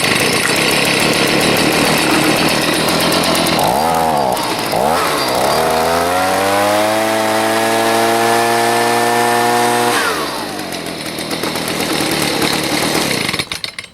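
A Stihl BG55 two-stroke leaf blower engine, just repaired, runs loud and close for the whole stretch, revving up and down before settling into a steady high idle and then dropping back.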